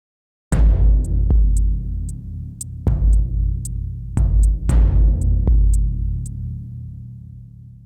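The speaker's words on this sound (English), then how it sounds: "Maybe like a cymbal or a hi-hat." A sparse electronic beat: deep booming kicks with ringing tails, topped by short crisp hi-hat ticks tapping in a steady pattern.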